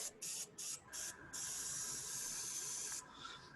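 A paint sprayer lays a thin coat of Plaid FX paint on a sword prop, first in four short hissing bursts, then in one long steady spray before it tails off.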